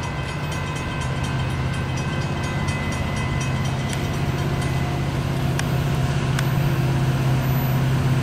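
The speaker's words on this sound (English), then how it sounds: "It's definitely a cool train." A train with two engines rumbles steadily past close by, a continuous low drone with metallic rattling throughout.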